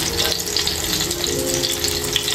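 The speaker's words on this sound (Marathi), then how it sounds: "चारी बाजूंनी आपण त्याला छान असं फ्राय करून घ्यायचं आहे।" Seekh kebabs fry in a pan, giving a loud, steady sizzle with constant crackle and no break across the whole stretch, with no voices.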